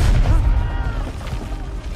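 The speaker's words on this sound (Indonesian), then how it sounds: "Setiap beberapa menit, tembakan artileri bergerak maju." Artillery fire booms in a war film about German soldiers on the World War I front, heavy low blasts and rumbling reverberation rolling on under a faint layer of voices.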